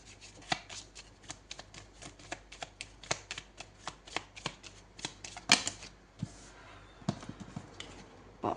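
Tarot cards are shuffled and drawn in a steady run of crisp, quiet flicks and riffles, close and alone, with a sharper snap partway through.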